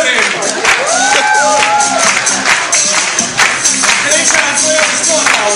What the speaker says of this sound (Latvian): Aplausi Jurim!